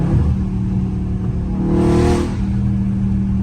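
A Dodge Scat Pack doing donuts on a rain-soaked surface, its engine revving loud and near with a rising surge in the middle of a steady roar.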